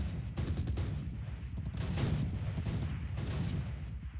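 Gunfire from the war game Close Combat, in a Pegasus Bridge battle, comes as dense rolling bursts of shots and explosions, continuous and moderately loud, with no voices.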